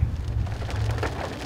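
Steady rain falls outdoors in wet, windy weather before a climb on Sou'wester Slabs, a continuous close patter with a low rumbling wash and no voices.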